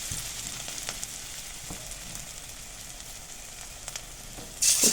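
Drumstick flower fritters frying in hot mustard oil, a continuous even sizzle with scattered crackles and pops, fairly close, louder in a short burst at the very end.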